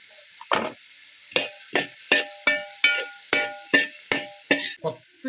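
Curry leaves and dried chillies fry in hot oil in a pan for a beef dish, with a steady run of about a dozen rhythmic stirring strokes, each bringing a crisp scrape and sizzle, close up.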